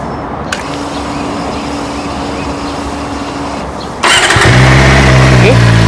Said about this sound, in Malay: jom saya belanja bunyi motor ini